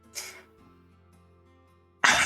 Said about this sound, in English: I can't get this cough to go away.